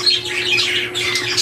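Pet birds bred at home chirp and squawk continuously in a dense, high-pitched chorus, close by, with a steady low hum underneath.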